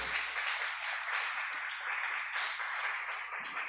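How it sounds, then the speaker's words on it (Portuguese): A church congregation applauding together, a dense, steady wash of many hands clapping at close range for several seconds without pause. "Vamos aplaudir o Senhor."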